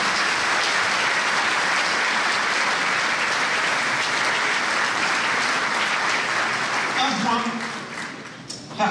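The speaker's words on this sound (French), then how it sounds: "je vous invite à les applaudir" Applause from an audience at a mayor's New Year greetings ceremony, dense sustained clapping for most of the stretch that thins and fades near the end as a voice briefly begins.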